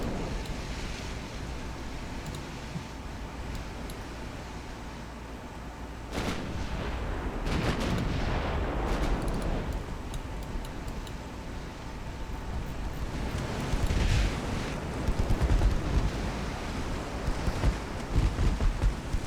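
Warship guns firing a broadside in the naval game Ultimate Admiral: Dreadnaughts, several deep booming blasts rolling out over a constant windy sea-like rumble, the bursts clustering loudest toward the middle and end.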